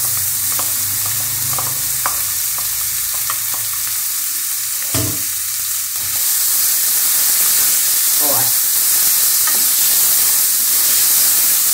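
Ground meat and onion frying in a pan for a macaroni sauce, a loud continuous sizzle and hiss with scattered crackles and spoon-stirring knocks, swelling slightly louder toward the end; no talking.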